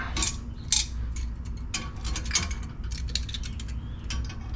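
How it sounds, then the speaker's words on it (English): Metal pliers tightening a fitting on a fuel line, giving a series of short, close clicking and scraping metallic sounds in irregular rhythm over a steady low hum, with no talking. "All right, we got our pliers now. And we're just going to tighten her down."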